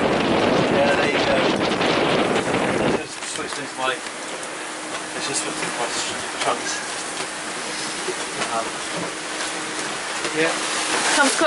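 A sudden Caribbean squall drives wind and rain across a sailboat, making a loud, steady rushing hiss that is heaviest in the first few seconds and then settles into a dense wash of rain and gusts.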